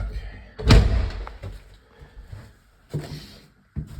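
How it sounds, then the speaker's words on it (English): A house door leading to the hallway opens with a heavy thump, followed by softer knocks, rattles and a final bump, close by in a quiet room. "Just a door to the hallway"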